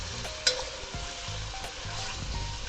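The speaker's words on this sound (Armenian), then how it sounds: "խառնենք եւ շարունակենք տապակելը" Cauliflower and carrot fry in a pan for a chicken soup, a quiet, continuous sizzle with soft stirring scrapes and a single sharp clink near the start.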